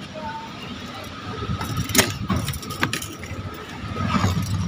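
Keys jingle and clink near a car parked outside a church in hot weather, with a quiet engine hum in the background and light ambient noise around.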